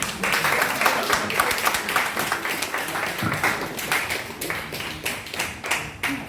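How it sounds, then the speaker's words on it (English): A live audience at a beautician's association ceremony in Lagos bursts into sustained clapping, dense and continuous throughout, with a few murmured voices beneath. "This one we have to clap for her more than everything."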